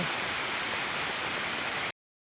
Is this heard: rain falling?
yes